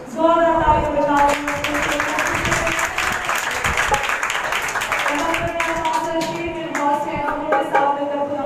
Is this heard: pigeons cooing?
no